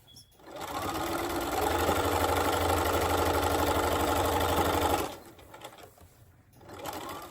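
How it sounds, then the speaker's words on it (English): A sewing machine fitted with a walking foot runs steadily for about four seconds, stitching quilt batting down the middle of a flying geese table runner, then stops, leaving quieter handling noise and a brief faint second burst. "you're gonna put the batting together and you're just gonna sew it down the middle"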